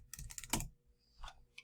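Typing on a computer keyboard: a quick run of several close, crisp key clicks, then a short pause and a couple more taps, quiet and alone.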